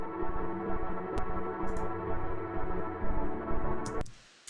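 Sustained synth pad from Serum with an LFO sweeping the wavetable position, a steady dense tone that keeps shifting in timbre, moderately loud, alone, then cutting off abruptly near the end.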